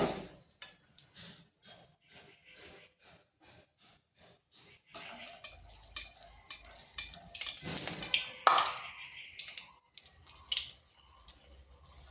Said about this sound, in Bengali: এইভাবে মিডিয়াম আঁচে ভেজে নিতে হবে।